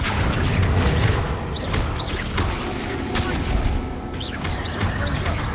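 Spell casting in the video game Hogwarts Legacy: a dense, continuous barrage of magical blasts, cracks and whooshing bursts layered into a loud combat mix, with several sharp rising zaps, and no talking.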